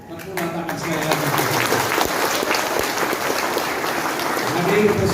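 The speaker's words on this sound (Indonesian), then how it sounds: "Tepuk tangan sekali lagi." An indoor audience at a campus welcome ceremony breaks into sustained, dense clapping that swells toward the end, with a voice faintly heard at the start.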